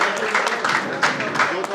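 Applause from an audience at a Maharaja Agrasen Jayanti celebration welcoming a re-elected president on stage, steady clapping from a crowd with voices mixed in, fairly loud and close, fluctuating in bursts.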